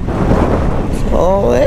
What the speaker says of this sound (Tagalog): Oh, sa lakas ng hangin, ha?